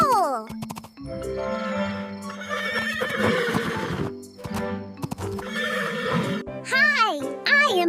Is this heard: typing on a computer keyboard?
no